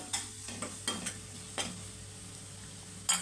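Garam masala and ground coriander frying briefly in a pan for cabbage curry, with a soft background sizzle broken by several scraping stirs and clinks of a spoon against the pan.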